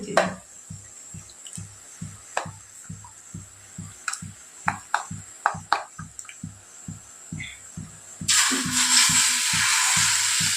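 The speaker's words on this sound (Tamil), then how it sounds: "பாருங்க இவன் இங்கே நல்லா காய் வதங்கிட்டு இருக்கு" Vegetables sautéing in a pan for a home-cooked dinner, heard as a steady run of soft, evenly spaced pops and taps close by, swelling into a loud, continuous hissing sizzle near the end.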